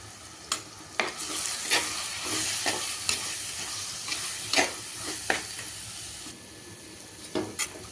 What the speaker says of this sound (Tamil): இந்த அளவுக்கு வதங்கிருச்சு.